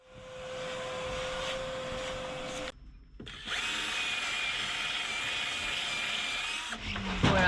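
A power sander runs with a steady whine on the wooden base of a sailboat's mizzen mast, cuts out briefly, then starts again and keeps droning before stopping.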